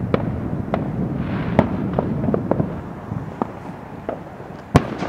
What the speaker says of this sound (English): there's a lot of firecrackers at Battle Creek Elementary School.